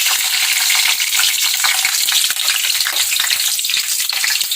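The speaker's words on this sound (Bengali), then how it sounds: "যে কড়াইতে সরষের তেল দিলাম, তেলটা গরম হয়ে গেছে। এবার কাঁচা লঙ্কা," Green chillies hit hot mustard oil in a karahi and set off a loud, dense sizzle with constant crackling that stays intense from start to finish, with no voices.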